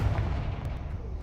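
A Confringo explosive spell cast in a fantasy video game: a dull, sustained low rumble of a blast, steady and fairly loud throughout, with no clear separate hits.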